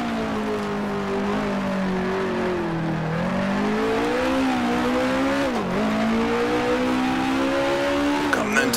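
A 1966 Formula One race car engine in Grand Prix Legends drones loudly and continuously, its pitch rising and dipping through gear changes and throttle shifts on the South African circuit, with no talk over it.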